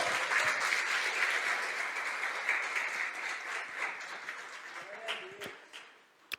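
Church congregation applauding during a sermon, a sustained wash of clapping that starts full and gradually thins out, with a voice speaking faintly underneath.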